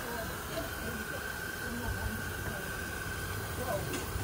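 Steam hisses steadily from the injector of a small steam locomotive at a club, a continuous close, moderately loud hiss with a faint tonal whine and a person talking briefly.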